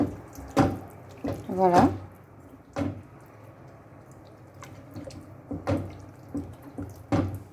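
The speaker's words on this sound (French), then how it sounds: "On ajoute un petit peu de l'eau." Water is poured into a cooking pot of curry, splashing and gurgling in brief bursts with clinks between them, and a voice speaks briefly.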